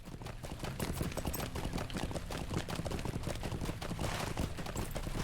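A horse clip-clops along a path in a video game with a quick, steady run of hoofbeats. The sound is fairly faint and continues for the whole stretch.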